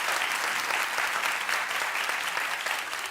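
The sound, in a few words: studio audience clapping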